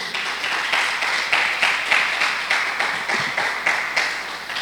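A church congregation claps together in a steady rhythmic beat, moderately loud and sustained throughout, with no speech over it.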